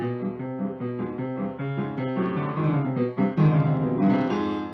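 Chaotic chromatic orchestral music from an opera plays Alberich's motif, built from clustered half steps. Dense sustained chords shift restlessly at a moderate, full volume.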